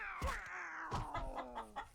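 Clucking and squawking chickens in the online role-playing game Legend of Mir 2, a run of short nasal calls with one sliding crow-like cry, close and fairly loud with no talk over them.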